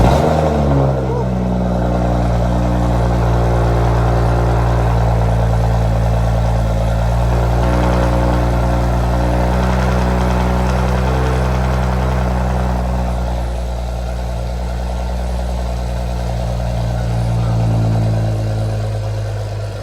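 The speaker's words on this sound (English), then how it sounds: "Now we are ready for the cold start." A BMW X3 with the N55 engine and a high-flow catted VRSF downpipe cold starts and settles into a loud, steady, deep idle, the drone holding close and unbroken to the end.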